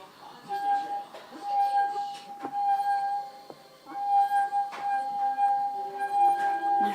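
A wet finger rubbed around the rim of a wine glass holding water draws out a pure, ringing tone that swells and fades in stretches. Quiet speech and faint clinks sound underneath.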